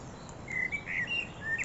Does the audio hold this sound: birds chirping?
yes